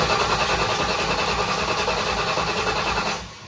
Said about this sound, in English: now let's get to priming on the motor